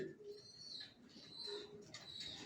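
Adult racer pigeons coo softly in a loft, low repeated murmuring calls with faint chirps, distant and quiet.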